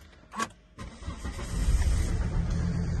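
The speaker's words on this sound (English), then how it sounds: "There you go, fires up on the button." A 2008 Volvo V70 D automatic diesel engine cranks briefly after a short click, then catches and settles into a steady, close idle.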